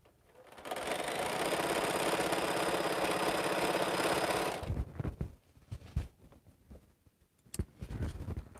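Sewing machine stitching a quilt border, a close, steady whirring run of about four seconds, then stops and gives way to handling and fabric rustles.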